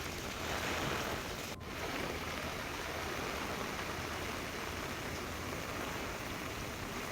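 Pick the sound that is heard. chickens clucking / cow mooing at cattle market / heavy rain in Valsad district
heavy rain in Valsad district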